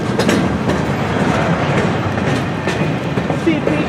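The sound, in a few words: train cars passing on the rails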